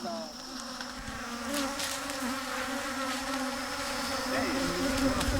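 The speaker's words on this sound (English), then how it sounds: "Yeah, there are bees. Too many bees, way too many." Steady, dense buzzing of many bees swarming close by at a camp in Cameroon, drawn by meat and salt, a continuous droning hum with occasional louder passes near the listener.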